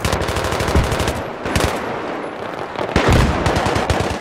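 Rapid automatic gunfire from an M16A3 assault rifle in Battlefield 3 on the Seine Crossing map, loud close bursts of rattling shots separated by brief pauses, with no voices.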